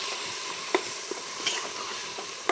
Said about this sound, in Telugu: పసుపు కొంచెం ఉల్లిగడ్డలు వేగడానికి ఉప్పు కూడా వేసుకుంటున్నా ఇక అన్నీ కలుపుడే